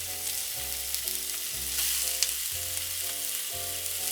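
Chicken and bacon sizzle and fry steadily in a pan in a home kitchen, a constant crackling hiss close by with no talk, while a low repeating tonal hum sits underneath.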